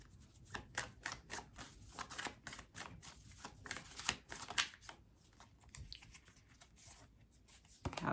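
Tarot cards are shuffled and pulled during a reading, giving a steady run of quick papery riffles and snaps, close and fairly quiet, with no talking.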